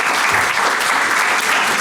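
Audience applause at a conference talk on cancer research, dense and continuous clapping from a sizeable crowd, loud and close, with no voices over it.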